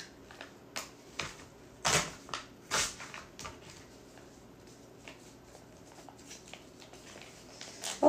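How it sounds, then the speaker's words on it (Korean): Scissors snip a Tagskin mask pack pouch along its perforated line, several sharp crisp cuts and crinkling foil sounds at close range in a quiet room. "일단 절취선에 따라서 잘라줍니다."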